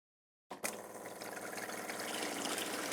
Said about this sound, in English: Let's go ahead and turn the faucet on and see if we can get hot water out of it.